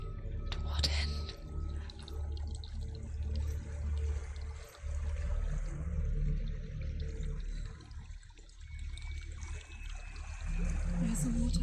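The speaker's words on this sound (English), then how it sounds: "There's a waterfall." A waterfall in the video game Hellblade: Senua's Sacrifice rushes in a steady, full roar under ambient game sound, with a brief sharp accent near the start.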